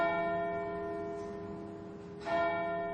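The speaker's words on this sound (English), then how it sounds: "so now they're going to strike 12" Clock bells striking twelve ring out with long, humming overtones that slowly fade, then a fresh strike sounds near the end.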